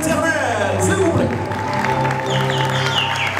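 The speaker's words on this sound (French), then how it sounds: "Je vais entendre les acclamations pour l'Éternel." Wedding guests at a festive party cheer and clap, a steady crowd roar lasting throughout with music and voices mixed in.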